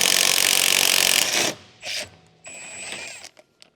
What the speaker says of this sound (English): Use a 22mm deep socket with a short extension bar and electric impact wrench to remove the front control arm bushing mounting bolt